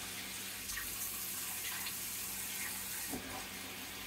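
Water sprays steadily from a rotating faucet extension aerator into a sink. The flow is a continuous hiss with a few faint splashes and clicks, and it is fairly quiet.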